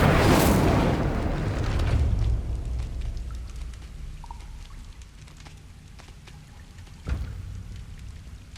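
An Incendio fire spell cast in the video game Hogwarts Legacy, a loud whooshing burst of flame that roars up at once and slowly fades, with a sharp crack later on.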